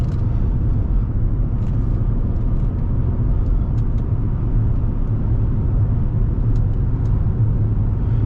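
A 2023 Acura MDX Technology cruises along the road, giving a steady, even rumble of engine and tire noise heard from inside the cabin, with no talk.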